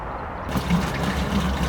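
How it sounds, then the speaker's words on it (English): Water pours steadily into a bag in a garden, making an unbroken rushing, gurgling flow for the whole stretch with no talking. "you have to fill it with water now to make sure you push it all out at the sides"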